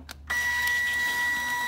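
Peel-off label printer starting up: after a couple of short clicks, a steady motorized whir with a thin tonal whine runs on continuously.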